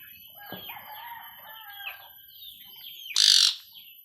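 Chickens cluck and chirp around a farmyard while a rooster lets out one loud, close crow near the end, standing clearly above the softer background calls.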